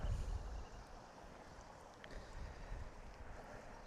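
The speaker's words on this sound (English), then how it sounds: "So the wind is picking up." Wind picking up outdoors on a homestead, gusting across the microphone with low buffeting rumble that swells at the start and again later, fairly faint overall with no speech.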